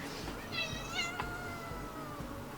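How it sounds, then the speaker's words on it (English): A cat meows a few times close by, with drawn-out, strained cries over low background noise. "I found a cat."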